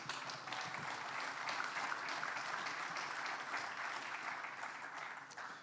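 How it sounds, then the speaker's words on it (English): A coaches clinic audience applauds Coach Oki Villaseñor, a steady wash of many hands clapping together, even and fairly distant, sustained throughout without voices on top. "Please, round of applause,"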